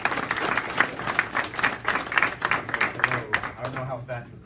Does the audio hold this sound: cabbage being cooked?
no